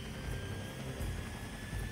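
A large helicopter in the mech strategy video game Front Mission 4 produces a steady, low droning whir with faint periodic rotor pulses, continuous and muffled.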